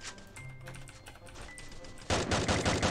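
Rapid automatic gunfire from the shooter game Free Fire, a dense burst of shots that gets louder and heavier toward the end, with faint game sounds underneath.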